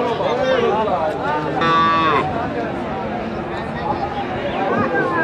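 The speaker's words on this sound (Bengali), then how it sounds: "বড় বড় গাই গরু" Cows lowing at a busy rural weekly cattle market, one long close moo rising and falling over a crowd murmur with other voices talking nearby.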